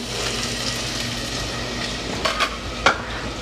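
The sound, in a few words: stirring onion in a pan over medium heat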